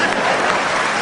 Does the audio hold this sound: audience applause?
yes